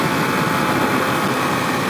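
A 2021 Kawasaki KLX 300 dirt bike engine revs hard at about 9,200 RPM near top speed, giving a loud, steady, unbroken drone with strong wind noise and no speech.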